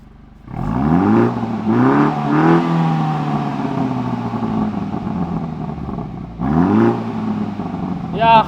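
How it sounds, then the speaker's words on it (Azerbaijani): A car's engine, shown while the car is up for sale, revs up in several loud, close bursts: three quick rises early on and another near the end, with a voice partly over it. "Bir dənə qaz ver qardaşım, zəhmət olmasın."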